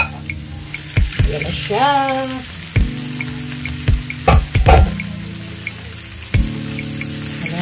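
Shrimp going into a pan of simmering coconut milk with pineapple, a series of sharp clinks and scrapes of a utensil against the pan over a low bubbling sizzle, with a brief voice speaking.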